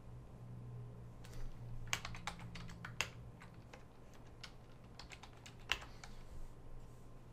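Password typed on a computer keyboard during sign-in to remote monitoring and control software for vibration testing, with soft, irregular key clicks and a few sharper taps over a low steady hum.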